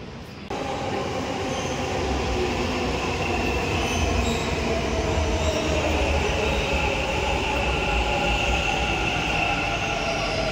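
An underground metro train at an MG Road station in Bengaluru fills the platform with a steady, loud roar of wheels and car rumble, with faint squeal and clatter throughout and no talk.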